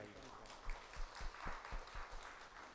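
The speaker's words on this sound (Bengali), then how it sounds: "তাই দাদার জন্য একটা বিশাল হাততালি চাই।" Audience at a poetry club gathering applauding a poet, with scattered, fairly faint clapping and a few louder individual claps and the murmur of voices mixed in.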